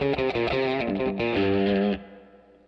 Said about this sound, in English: We're still here with the tube distortion pedal.